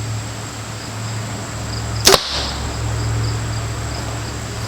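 Bare-shaft arrow shot from a bow through paper for tuning, a single sharp snap and thwack standing out over steady outdoor insect and cricket buzz.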